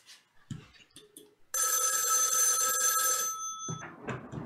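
A telephone bell rings in one sustained burst lasting about two seconds, bright and clear, with a few faint clicks and thumps before it and a low muffled rumble after it.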